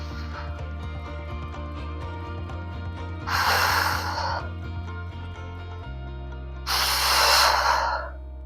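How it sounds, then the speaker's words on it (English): Two long, loud breaths, in and then out, rush through a full-body gym workout. Each lasts about a second, and they are spaced roughly three seconds apart over a steady background of low music. "Inhale, exhale."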